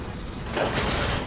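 A Guardian side mount garage door opener moves the garage door, making a short mechanical whirring and rattling sound with a faint clicking texture, steady and moderately loud at close range.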